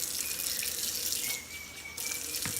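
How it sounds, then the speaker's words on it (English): Tap water runs steadily into a container while instant noodles are being prepared for the microwave, a close, continuous hissing rush with slight dips in flow and no voices. "Put some more water in the motherfucker."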